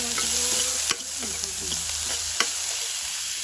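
Chopped onion sizzles steadily in a hot pan while a utensil scrapes and stirs it, with several distinct stirring knocks over a constant frying hiss.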